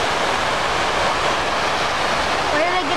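Steady, loud rush of water cascading into a memorial fountain pool in New York City, a dense continuous roar with faint voices underneath.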